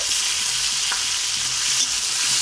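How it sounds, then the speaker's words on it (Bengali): Green chilies and tomato fry in a little oil for a cabbage curry, a steady close sizzle with soft stirring clicks of a spatula in the pan and no voices. "হালকা ভাজা ভাজা হয়ে আসলে এখানে 2টো কাঁচা লঙ্কা আর টমেটো কিছু দিয়ে দিচ্ছি"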